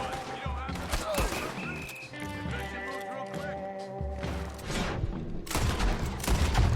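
Video game gunfire rattles in bursts over a busy mix of music and effects, with horse hooves and whinnies mixed in and voices speaking over the action throughout.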